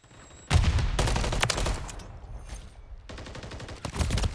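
Rapid gunfire crackles through a competitive 8v8 first-person shooter match on the Vista map, with dense bursts of automatic shots, a brief lull, then another sustained volley, loud and close.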